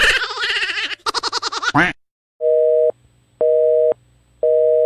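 A phone busy signal sounds three times, evenly spaced steady tones separated by silence, after a brief burst of warbling electronic melody.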